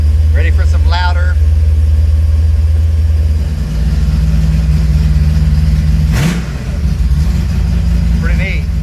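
A car engine runs loud and close with its exhaust cutout open, giving a heavy, steady low drone with a brief rev surge partway through. Someone talks briefly over it at the start and near the end.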